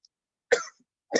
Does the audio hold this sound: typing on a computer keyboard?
no